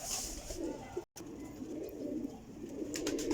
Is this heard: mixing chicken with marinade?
no